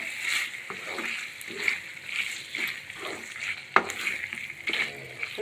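Chicken liver fries with curry leaves in a pan, giving a steady sizzle with periodic stirring scrapes and a sharp clack near the middle, with no talk over it.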